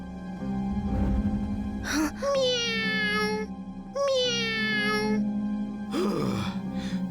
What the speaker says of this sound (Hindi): तुम्हारी पालतू बिल्ली है।